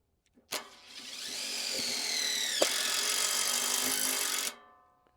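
Power driver running a screw straight into a trailer's wooden bed without a pilot hole, one sharp start then a sustained whining motor for about four seconds, pitch drooping under load before cutting off abruptly.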